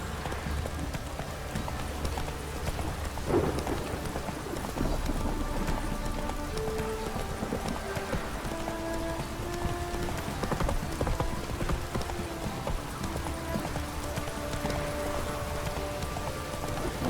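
Roach, Geralt's horse in The Witcher 3, gallops with steady rhythmic hoofbeats under a continuous bed of ambient game noise and soft musical tones, moderately loud and close throughout.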